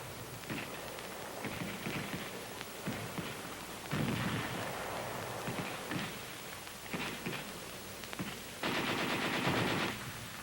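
Heavy machine guns firing in sustained rapid bursts during a World War II army training exercise, with loud rattling volleys separated by short gaps.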